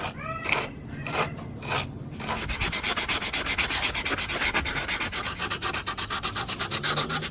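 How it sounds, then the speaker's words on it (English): Sandpaper scrubs paint off a length of 1/2 inch copper tubing: a few separate strokes at first, then fast continuous back-and-forth rasping up close, loud and steady with no speech. "we do need to clean off all the paint on here and then clean up all the inside. So we've got some sandpaper, and we're just gonna clean all this up"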